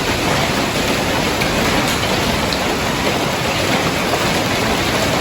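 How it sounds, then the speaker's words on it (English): A hailstorm pelts down on a family trip, heard as a dense, steady roar of hard ice striking surfaces, loud and close, with no voices. "Here's a video of the hailstorm."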